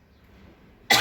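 A single sharp cough from an elderly man at the end of a quiet moment during a winter meal, close and abrupt.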